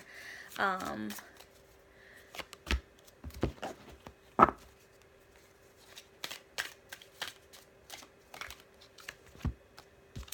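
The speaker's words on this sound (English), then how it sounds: "I like to shuffle the cards in front of you guys" Cards are riffled and shuffled with crisp snapping flicks, followed by a scattering of soft taps and clicks in a quiet room.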